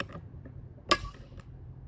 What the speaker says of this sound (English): when I finally get the torque specs, which is, by the way, 40 inch-pounds, I'm torquing these two